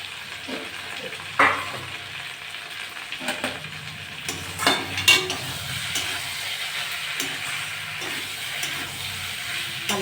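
A chopped tomato with cumin powder frying in a pan for a small-fish, aubergine and potato curry, a low steady sizzle close by with a few sharp stirring knocks and scrapes.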